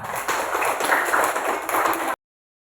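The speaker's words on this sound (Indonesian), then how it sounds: "Tepuk tangan untuk kelompok 1." A short burst of clapping from a small group of students in a classroom, steady and fairly close, then a sudden cut to silence.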